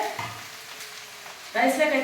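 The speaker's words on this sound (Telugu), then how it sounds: "ఇవి 10 మినిట్స్ ఒక వేపుకుందాము ఈ బంక పోయే వరకు" Okra frying in a pan to cook off its sliminess, a soft crackling sizzle that rises into brighter, louder spattering near the end, heard close with no talk over it.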